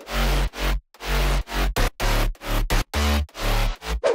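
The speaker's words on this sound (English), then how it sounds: "With growls and stabs." Aggressive future house bass reinforced with synth growls and stabs, playing a loud, choppy rhythmic pattern of short punchy bursts separated by sidechained gaps, with no voices.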